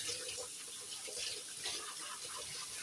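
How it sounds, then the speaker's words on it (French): Fish rinsed under a running cold water tap in a sink, a soft steady splash and trickle of flowing water, quiet and continuous, with no talking. "maintenant je vais rincer mon poisson. Toujours avec l'eau froide."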